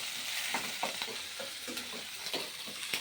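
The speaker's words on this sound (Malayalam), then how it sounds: "അതിനുശേഷം 2-3 പച്ചമുളക് ഇളക്കി കൊടുക്കാം." Two or three green chillies hiss and sizzle in hot oil in a pan while a spoon stirs them, with soft scraping taps over a steady close frying noise.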